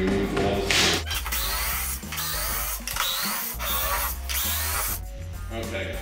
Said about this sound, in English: So now we take our electric drill and we're going to remove all the screws.